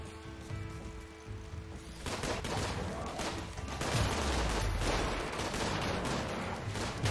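Dense, continuous turret gunfire from a RimWorld base defence, a steady loud barrage of overlapping shots with heavier booms mixed in, no talking.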